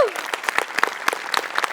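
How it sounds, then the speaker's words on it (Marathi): A small group gives a brief burst of scattered, uneven clapping during a comedy show, with distinct individual claps and a voice briefly at the start. "तुझ्यासाठी टाळ्या"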